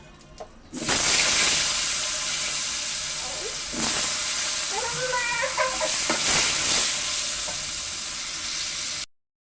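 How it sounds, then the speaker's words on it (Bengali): Onion frying lightly in a pan, a continuous close hiss and sizzle with a few soft stirring knocks, steady throughout before cutting off abruptly at the end, no voices. "পেঁয়াজটা হালকা করে ভেজে নেব"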